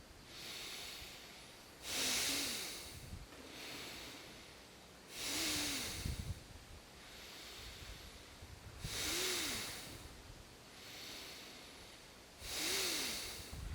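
Slow deep breaths drawn in and let out during a breathing exercise, about four long airy cycles, close and soft, with quiet pauses between them.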